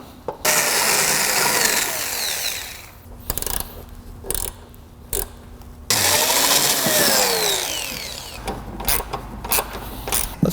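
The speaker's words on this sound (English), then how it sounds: "This is probably going to be a job for my angle drill." An angle drill bores bracket holes during a car's final assembly, buzzing in loud bursts of whirring and grinding separated by brief pauses and clicks, close up with no talk.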